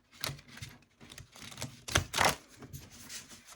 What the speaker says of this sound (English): gonna give it a couple of extra shuffles